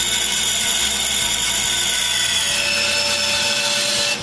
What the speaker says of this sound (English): it's time to cut the exterior of the box on the bandsaw.